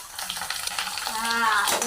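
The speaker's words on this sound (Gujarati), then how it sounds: "મસ્ત મજાના ભાઈ ભૂંગળા તળાય છે" Bhungla potato fryums deep-fry in bubbling hot oil, giving a dense, close crackling sizzle that swells slightly toward the end.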